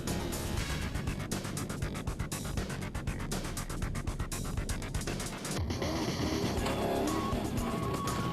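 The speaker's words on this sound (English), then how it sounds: "The Toyota nipped ahead of the Nissan, and with Whitehouse and Carlson in hot pursuit" Toyota and Nissan Navara rally trucks race in the Carnival City 400, with a loud, continuous engine roar and bursts of tyre noise that cut off sharply partway through into a steadier, thinner drone.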